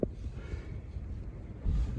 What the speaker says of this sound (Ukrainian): І плюс на дворі такий вітер, що страшно брати шиферину.